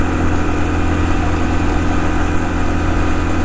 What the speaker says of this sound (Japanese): どうなんですかね、エンジン回転どれぐらい回ってんのか